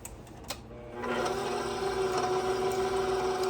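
An electric mixer running on low speed, blending muffin batter of wet ingredients poured over dry ones, starts about a second in and holds a steady, close whirring hum with no talking.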